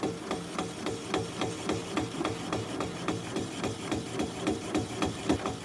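Gouge cutting a black cherry live-edge bowl on a wood lathe at 200 RPM, a faint rhythmic tapping and scraping repeating several times a second as the tool bites the spinning wood.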